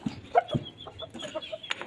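Hens and chicks in a backyard coop give a few soft, close clucks and short peeps, scattered over a brief moment with no talk.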